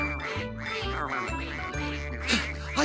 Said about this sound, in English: I can't hear the queen because of all this quacking